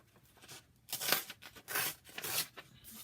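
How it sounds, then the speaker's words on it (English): A folded paper journal page torn in half by hand, heard as three loud, close ripping bursts of rising and falling tearing noise separated by brief pauses, with no voices. "And then I tear it in half."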